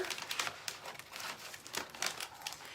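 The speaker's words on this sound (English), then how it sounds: "So you can just take your scissors right over the transfer" Scissors cut through a floral furniture transfer sheet during a dresser upcycling job, giving close, soft crinkling paper rustles and irregular snipping crackles in quick succession.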